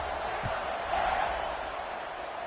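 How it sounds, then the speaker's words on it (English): Stadium crowd at a college football game with South Carolina on the field, a steady broad buzz filling the space, loud and continuous with a brief swell midway. "this crowd is buzzing after that last score"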